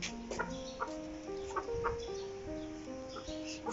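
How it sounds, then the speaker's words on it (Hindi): Neighbours' chickens cluck softly in a coop, with scattered short clucks and a few brief calls rising over faint background noise, fairly distant and quiet, with no talking. "अंदर वहाँ मुर्गियाँ बैठी हुई हैं हमसायों की।"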